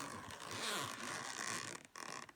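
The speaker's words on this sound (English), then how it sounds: "just listen to the quality of that zip" Zip of a Motorola TLKR T92 H2O walkie-talkie twin pack carry case being opened: a continuous close rasping zipper pull lasting about two seconds, with a brief pause before a final short tug.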